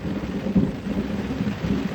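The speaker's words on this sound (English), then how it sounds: "that was a clap of thunder" A clap of thunder rolls as a deep, continuous rumble, steady and fairly loud, with a rain-like hiss over it and no voices.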